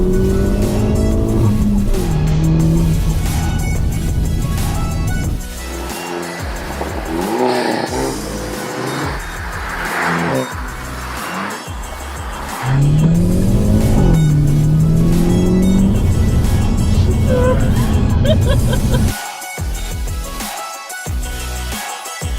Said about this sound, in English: it's roads like this that demonstrate exactly what an N car can do when unleashed on the public road